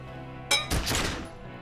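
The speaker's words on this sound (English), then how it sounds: "A small explosion expels the bullet from the chamber, with a puff of smoke like dice rolling." A gunshot fires in the video game Disco Elysium: a sharp click-like crack, then a louder close blast that decays over about half a second into quiet.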